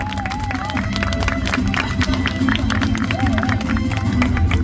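An audience at an outdoor festival applauds the winner of a StarCraft tournament during the award ceremony: scattered clapping and cheering over a steady crowd hubbub with music, a voice occasionally rising above the noise.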